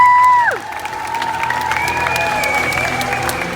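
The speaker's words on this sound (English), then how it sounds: "give them both a round of applause" Audience applause and cheering at the Fear Factor Live stunt show at Universal Studios Florida, a steady crowd roar with clapping that follows a fading whistle-like tone and holds loud throughout, with faint shouts mixed in.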